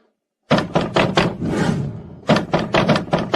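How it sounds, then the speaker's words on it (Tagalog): Knocking on a door heard alone and loud: a quick series of four firm raps, a brief rustling pause, then another rapid run of knocks. "May kumakatok talaga."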